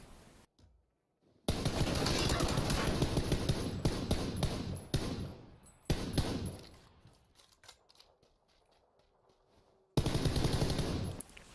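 Rapid automatic gunfire from an M416 assault rifle in the PUBG video game, loud sustained bursts broken by short pauses, with a final burst near the end.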